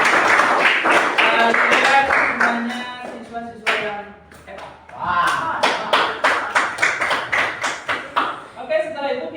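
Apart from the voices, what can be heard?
class applauding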